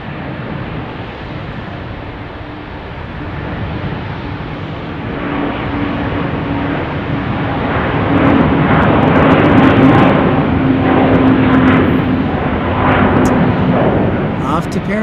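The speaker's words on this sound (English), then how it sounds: "heavy Airbus 330 departing" Heavy Delta Airbus A330 jet departing runway 34 right, its engine roar a steady broadband rumble that swells louder toward the end, with faint talk mixed in.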